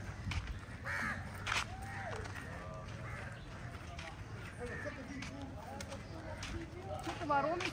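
Crows caw repeatedly outdoors in Africa, a few harsh calls scattered through steady background noise while people talk nearby.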